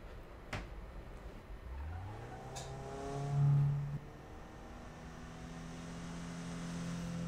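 In a Need for Speed racing game, a car engine hums at low volume as the vehicle rolls out of the garage, its pitch rising briefly as it revs and then settling into a steady drone, alone with no voices.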